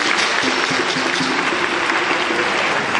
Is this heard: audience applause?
yes